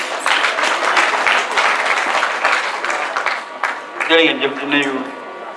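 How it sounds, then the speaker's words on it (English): An audience applauds for several seconds, the clapping fading out as a single voice begins to speak. "A round of applause for him, please."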